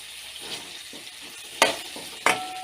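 Chopped tomatoes sautéing in a pan for drumstick gravy, a soft steady sizzle with light stirring and two sharp scrapes of a utensil against the pan.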